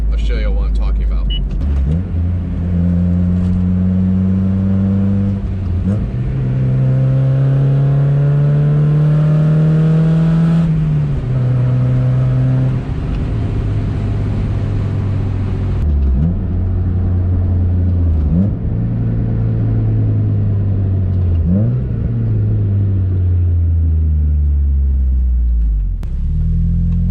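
A car fitted with a RoadsterSport 4 exhaust revs repeatedly, its deep, smooth drone swelling and falling in several rises as a voice talks over it.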